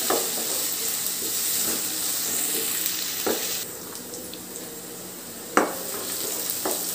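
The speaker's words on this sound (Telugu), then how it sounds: "ఇలానే ఒక 3 నిమిషస్ పాటు బాగా ఫ్రై చేసుకోవాలి ఆనియన్స్ బ్రౌనిష్ కలర్ వచ్చే వరకు" Onions fry with salt in a pan for a prawn curry, a steady close sizzle broken by a few stirring scrapes and clinks against the pan.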